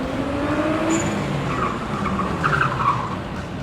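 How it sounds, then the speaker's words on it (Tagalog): A supercar drifts with its tires squealing, a steady wash of skidding tire noise and engine hum with brief shrill squeal bursts, loud and fairly close. "I will drift without limits"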